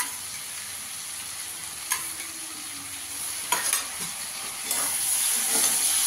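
Amudi fish frying with a spoonful of ginger-garlic paste in a pan over a low flame: a continuous close sizzle broken by a few scraping stir strokes, growing louder near the end, with no voices.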